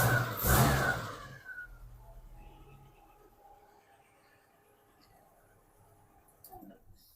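A Datsun car engine catches on the first turn of the key with a loud burst that rises in revs, then settles into a quieter idle that fades under a faint background hum, with brief talk nearby.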